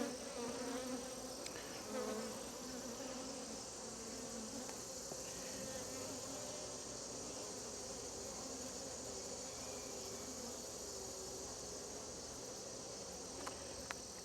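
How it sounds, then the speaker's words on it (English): Honeybees buzzing around an open hive during an inspection, a dense, continuous drone close to the listener with individual bees passing near, steady throughout with no talking. "the bees do get in the way sometimes when you're trying to deal with their pests"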